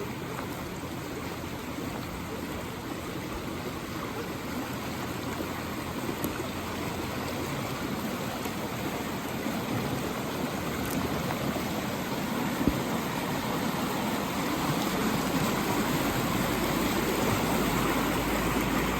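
A Knott County, Kentucky creek runs high after heavy rain, a steady loud rushing roar of water that holds constant throughout with no talking.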